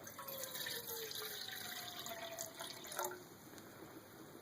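Water pours from a 16.9-ounce plastic bottle, about half of it emptied onto an alcohol stove in a steady, fairly quiet trickle that runs several seconds, then tapers off with a small clunk at the end.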